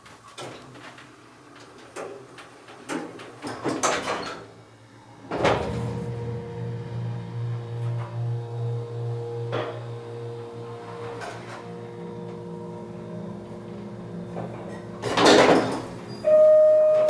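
An Otis Series 1 hydraulic elevator's doors, with clunks and clicks at the start, then a sliding rumble as the door moves and closes, ending with a heavier bang and a brief tone.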